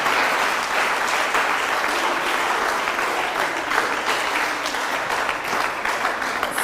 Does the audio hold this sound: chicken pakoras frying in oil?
no